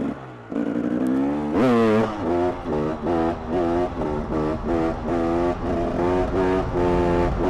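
A KTM 300 EXC two-stroke supermoto accelerates hard, its engine note climbing and dropping in a rapid series of gear shifts, loud and close throughout.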